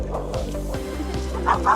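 Dogs scuffle on a boardwalk along the Portuguese Camino in Portugal, with rapid sharp yips and bark-like yelps over outdoor background noise, fairly close and agitated.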